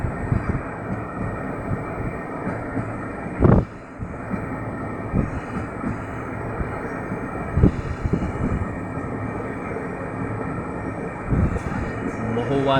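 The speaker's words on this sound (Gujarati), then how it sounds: "મહુવાથી ટ્રેન સુરત જઈ રહી છે" A passenger train running from Mahuva to Surat rumbles steadily from inside the carriage, with a broad continuous roar, rhythmic wheel knocks and occasional louder jolts, as people talk over it.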